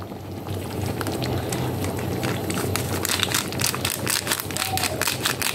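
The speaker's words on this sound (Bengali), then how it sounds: "আমার ঝোল আলু মাংস মাটন পুরো রেডি, ফুটছে।" A pot of spicy mutton curry with potatoes simmers at a rolling boil, giving a steady bubbling and seething sound with scattered pops and clicks throughout.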